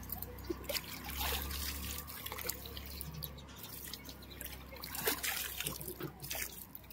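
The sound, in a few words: water trickling in hot water pools at a temple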